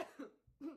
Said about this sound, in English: listening to my beautiful cough